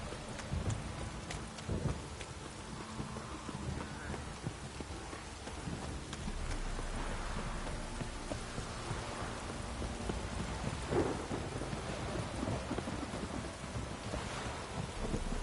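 Steady rain in a video game pours down with a constant hiss, while low thunder rumbles now and then in the distance.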